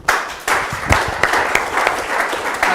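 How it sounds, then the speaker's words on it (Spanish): A church congregation claps for the Lord in a burst of loud, close applause, individual hand claps audible as sharp strokes within the continuous clatter. "Den un aplauso al Señor."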